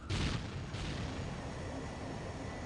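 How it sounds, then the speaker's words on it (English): An Imperial Guard lascannon fires in the strategy game Dawn of War Soulstorm, two loud booming bursts close together near the start, then a sustained noisy rumble that slowly fades. "And that is a las cannon. A remarkably fast firing rate and also range as well."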